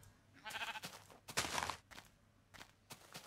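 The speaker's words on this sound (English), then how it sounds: "Sheep, I will kill you." Sheep bleating in the Minecraft video game, a few short nasal bleats rising over soft footsteps and faint rustling, moderately close with quiet gaps between calls.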